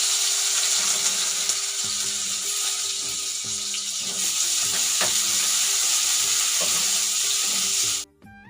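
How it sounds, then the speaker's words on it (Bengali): Pumpkin and potato pieces fry in a pan on a home stove, giving a loud, steady sizzle that runs unbroken for about eight seconds and then cuts off abruptly. "আর এখানে কুমড়ো আলুটা ভেজে নিচ্ছি।"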